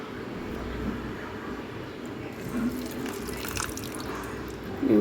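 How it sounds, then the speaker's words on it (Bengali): Water goes into a pan of small-fish charchari curry with a soft, close pouring and squishy trickle, then a few louder splashes and drips toward the end. "পানি দিয়ে দিচ্ছি"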